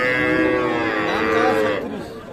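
A Sahiwal cow at a busy cattle market gives one long, loud, sustained moo that fades toward the end.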